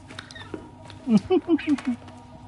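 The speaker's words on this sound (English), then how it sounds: "Yummy, says the cat." A cat in the video game Death Stranding 2 gives a run of five short, low, eager meow-like calls in quick succession, up close over quiet in-game background sound.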